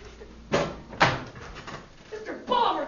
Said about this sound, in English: There's the door.